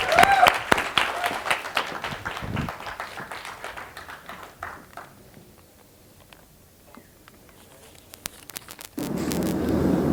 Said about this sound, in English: एक बार round of applause to all of them